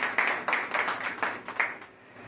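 Applause from the crowd at an Aam Aadmi Party farmers' wing workers' convention in Jhansi, a steady stretch of clapping with a few louder surges, moderately near, that thins out toward the end, with no voices over it.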